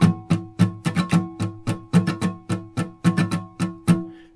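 Guitar strummed in a steady eighth-note pattern with quick sixteenth-note strokes slipped in, bright percussive chords in a loose, bouncy rhythm, solo and close.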